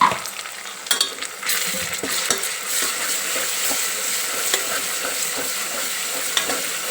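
Ginger garlic paste and turmeric fry in oil for goat trotter soup, making a continuous close sizzle with scattered stirring clicks and scrapes against the pan.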